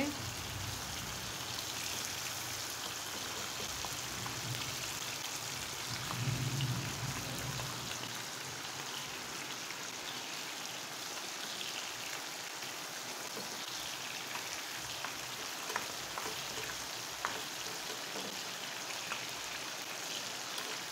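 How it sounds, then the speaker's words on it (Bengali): Rain falling outside as steady broadband hiss with scattered drop patter, continuous and moderately loud, and a faint low hum early on. "অনেক সুন্দর বৃষ্টি হচ্ছে বাইরে"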